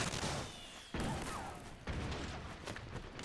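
Dense gunfire from Metal Gear Solid 4 fills the clip: continuous overlapping shots and thuds with sudden loud bursts near one and two seconds, a busy chaotic firefight with no talk.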